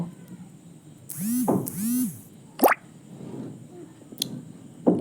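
Thick paneer curry spiced with garam masala is poured from a pan into a bowl, giving a few soft, wet plops and slurps at close range, with a brief tonal sound in the background.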